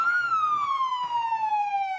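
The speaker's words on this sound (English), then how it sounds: "This is a fire truck." A fire truck siren sounds a single loud, sustained wail that slides slowly downward in pitch, heard alone and close.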